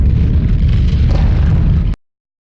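Explosions in the video game Grandia 2 fill the space with a dense, loud, continuous blast of rumbling noise that cuts off abruptly after about two seconds, with no talking.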